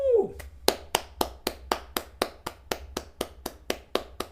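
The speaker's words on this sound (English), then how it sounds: "clapping for chat" A single person claps hands in a steady rhythm, about fifteen sharp, close, even claps following a brief vocal sound at the start.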